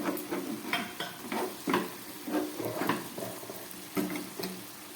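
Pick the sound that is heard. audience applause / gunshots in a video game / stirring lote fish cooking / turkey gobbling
stirring lote fish cooking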